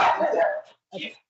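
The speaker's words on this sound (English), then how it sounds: "Sorry about the dog." A dog gives a short bark followed by a quieter second yip, heard close indoors during a pause with no one talking.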